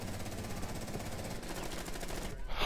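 Video game gunfire in a dense, continuous rattle of rapid automatic shots, loud and close throughout, with no clear talk over it.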